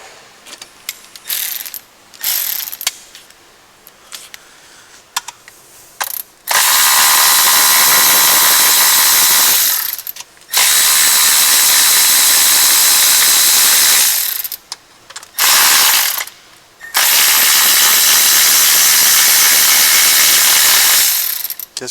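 Ratchet wrench loosening valve cover bolts on a 2010 BMW 335i GDI engine, with short bursts of clicking followed by long, loud, continuous ratcheting runs up close.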